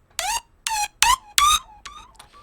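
A synthesizer patch with distortion, chorus and delay plays six short, bright, bending notes in a quick phrase, the last two quieter and trailing into echoes.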